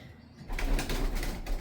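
A young racing pigeon, a freshly weaned youngbird, gives soft coos and rustles close up, starting after a brief quiet moment and continuing steadily.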